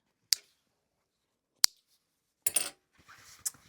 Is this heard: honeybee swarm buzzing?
no